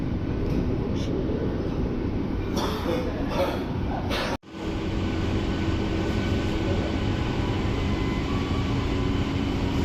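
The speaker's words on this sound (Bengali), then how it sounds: "ট্রেন ঢুকলো এই মুহূর্তে নৈহাটি জাংশন স্টেশনে।" An AC local train pulling into Naihati Junction station, a continuous rumbling roar of the carriages with some rattling, then a sharp momentary dropout before the steady rolling noise resumes.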